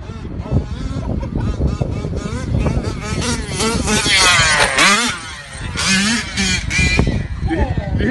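Losi RC car with a 71cc petrol engine screams and revs hard in rising and falling bursts, buzzy and loud up close, with people talking and shouting over it.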